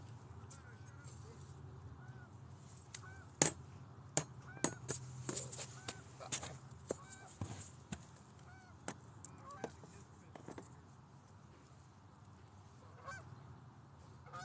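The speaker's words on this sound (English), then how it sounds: "there goes some geese going above us right now." Geese honking as they fly overhead outdoors on a fishing trip; a series of faint, distant honks comes in an irregular run over steady background hum, with speech nearby.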